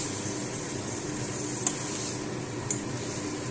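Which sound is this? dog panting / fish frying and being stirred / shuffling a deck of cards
fish frying and being stirred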